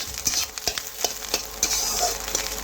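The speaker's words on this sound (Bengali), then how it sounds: "এখন আমি ভালোভাবে নাড়াচাড়া করে একটু লাল লাল করে ভেজে নেব" Fish roe frying in a pan with steady close sizzling, broken by sharp scraping and clacking as a spatula stirs and turns the pieces every half second or so, with no voices.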